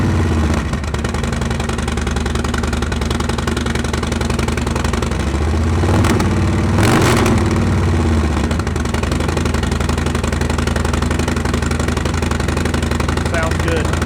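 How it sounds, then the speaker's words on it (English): A Harley-Davidson Low Rider ST motorcycle fitted with a Trask Performance exhaust rumbles at a steady idle close by, with a brief blip of throttle partway through. "we're going to hear what this exhaust system sounds like"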